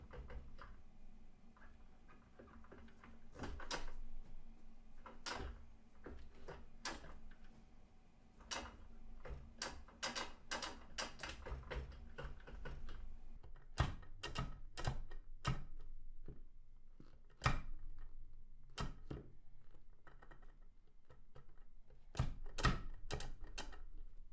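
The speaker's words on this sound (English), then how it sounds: "There's a lockout to prevent accidentally shifting into reverse or 7th gear. To engage those gears, push down on the gear knob first." The gear knob on a MOZA Racing HGP shifter is pushed down through its lockout to reach reverse, making a string of sharp, close mechanical clicks and clacks, sparse at first and then in quick clusters against a quiet background.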